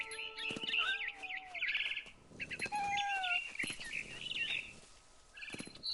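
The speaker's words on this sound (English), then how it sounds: "Then I heard chirping outside my window. It was a barn swallow going back to her nest." A barn swallow chirps and twitters near its nest in quick, bright bursts of varied calls, fairly faint and close, with short pauses between phrases.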